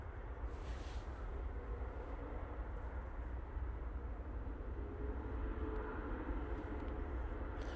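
An Emirates airliner at Manchester Airport gives a steady, broad jet roar at a distance, continuous and fairly even throughout.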